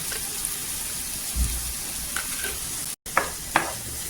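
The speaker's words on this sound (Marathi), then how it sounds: "1-2 मिनिटं आहे ना छान असं तेलावर परतायचं" Masala fries in oil, a steady low sizzle with a few soft pops and stirring scrapes, close and continuous with a brief dropout.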